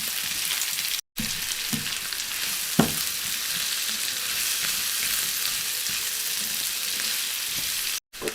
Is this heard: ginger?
yes